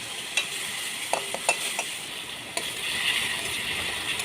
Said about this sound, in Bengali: এবার পেঁয়াজটাকে হালকা করে ভেজে নেব। ভেজে নিয়ে তেজপাতা দিয়ে দিলাম।